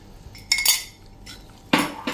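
A spoon scraping and clinking in a pan as amaranth flour roasts in ghee for sukhdi, two or three short bursts of stirring with quiet gaps between them, close and moderately loud.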